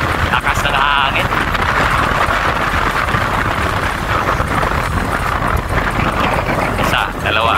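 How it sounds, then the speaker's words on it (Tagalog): Strong wind buffets the microphone with a steady, loud roar throughout, while voices speak faintly underneath. "Lakas ng hangin."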